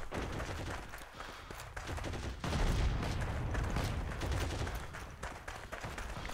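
Gunfire and a grenade blast in the WWII shooter Heroes and Generals, a loud, dense fusillade of shots with a heavy explosion around the middle, continuing steadily throughout.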